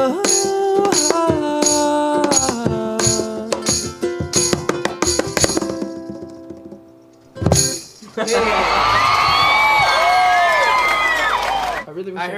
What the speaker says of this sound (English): Don't worry, that's my third applause.